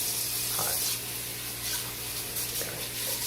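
Water runs steadily from a kitchen tap as a pot is rinsed in the sink, a continuous close hiss with slight splashing changes throughout.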